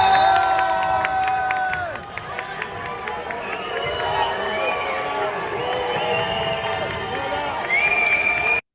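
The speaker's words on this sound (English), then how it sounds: "At least most of the crowd are booing, not too many cheering." A large indoor basketball crowd in France boos and shouts in a loud, sustained roar with whistles and scattered cheers mixed in.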